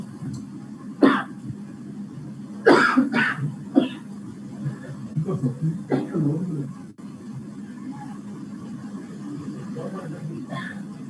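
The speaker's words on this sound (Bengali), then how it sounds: "আমার আসলে এখনো কাশিটা রয়ে গেছে, কাশিটা এখনো যায়নি" A man with a lingering cough gives several harsh, throaty coughs and throat clearings in separate bursts, close up in a quiet room.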